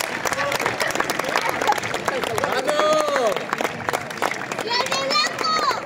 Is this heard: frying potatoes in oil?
no